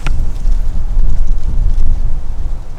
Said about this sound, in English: the wind's coming up out of there now